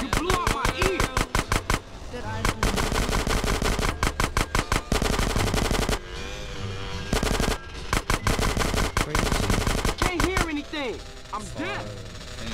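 Rapid machine-gun fire in GTA San Andreas, loud sustained bursts with short gaps, continuing through most of the stretch over a steady engine-like background.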